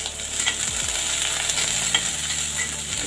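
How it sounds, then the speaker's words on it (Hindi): Chopped onions with slit green chillies and ginger fry in a pan for a potato and okra sabzi, giving a steady close sizzle with soft stirring scrapes throughout. "हल्का हल्का प्याज को भून लेंगे ब्राउन होने तक"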